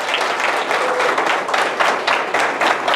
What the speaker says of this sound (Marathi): सो आपण मॅडमसाठी एकदा जबरदस्त टाळ्या वाजवूया.